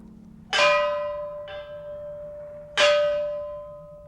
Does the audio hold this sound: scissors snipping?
no